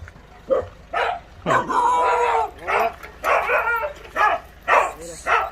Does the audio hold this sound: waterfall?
no